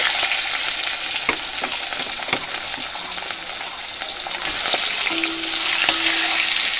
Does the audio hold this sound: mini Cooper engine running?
no